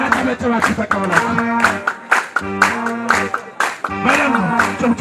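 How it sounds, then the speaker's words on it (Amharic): Rhythmic audience clapping at a prison gospel service, steady and fairly loud, mixed with singing voices and crowd noise across the whole stretch. "በደንብ ጭብጨባ ሞራል ስጧቸው።"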